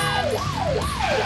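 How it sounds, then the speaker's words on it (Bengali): A car fitted with an ambulance-style siren wails in a loud, repeating rising-and-falling sweep, close and continuous, over low road and engine rumble. "এমন সাইরেন বাজিয়ে যাচ্ছ কেন ভাইয়া?"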